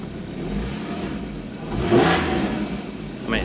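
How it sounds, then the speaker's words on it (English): A warmed-up 2014 Porsche 981 Boxster S with PDK gearbox idles with a steady low rumble, then blips its engine in a short rev near the middle, with another rising rev at the end. "Let me just turn the car on, because that's what you want to hear."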